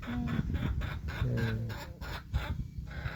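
Chickens in a rural Thai farmyard give repeated clucks and short calls from a laying hen, fairly close and at moderate loudness, with faint people talking in the background.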